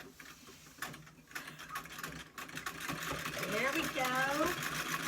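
A treadle sewing machine starts up and runs, its wheel and pedal building into a steady rapid mechanical patter that grows louder; a person speaks briefly at the start.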